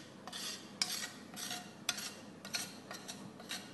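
A spoon stirring bananas foster in a pan, close scraping and rubbing strokes in an uneven rhythm with sharp metallic clinks against the pan, no voices.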